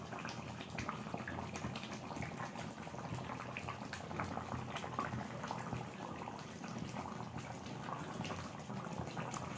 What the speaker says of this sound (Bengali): ফুটছে